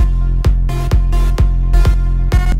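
An EDM airport-style drop with a synth lead on top plays loud and alone: bright sustained chords with pulsing rhythmic stabs roughly every half second.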